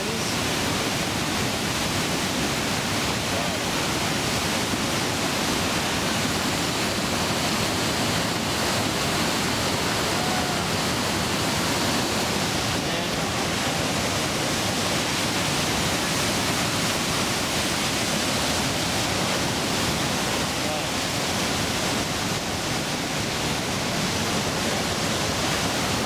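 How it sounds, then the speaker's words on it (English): Bridal Veil Falls at Niagara thunders at very close range, a dense, unbroken roar of falling water with a wash of spray, steady and loud throughout with no voices. "this is Bridal Veil Falls, as close as you could possibly get to it"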